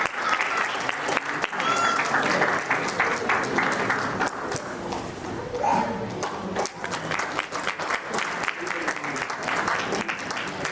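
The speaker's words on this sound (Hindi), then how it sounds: "जोरदार तालियों के साथ।" Audience claps loudly at an indoor award function, a dense stream of handclaps that swells and dips over about ten seconds, with crowd voices faintly underneath.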